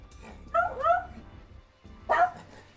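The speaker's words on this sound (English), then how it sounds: "I am fighting with my dogs." Pet dogs in a home yipping and whimpering in short high-pitched bursts, two separate clusters close by with brief quiet between.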